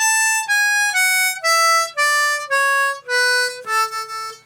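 Harmonica playing a slow run of single sustained notes that starts on the 7 blow, each tone clear and bright and stepping through the range, close and alone with no talking.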